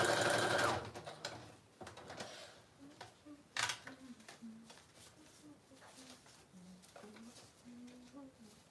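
A sewing machine stitches junk journal pages in quick, repeated bursts of mechanical whirring, fairly faint and close, with a voice talking between and over the stitching.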